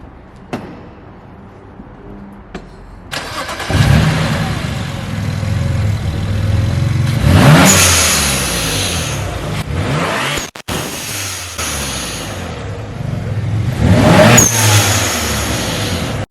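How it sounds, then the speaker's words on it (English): A BMW E92 335i fitted with a tuned blow-off valve and charge pipe starts up, idles, then revs hard several times in loud close bursts, with hissing blow-off releases between the revs. "I'm gonna go ahead and turn it on. I'm gonna give it a couple revs so you guys can hear it"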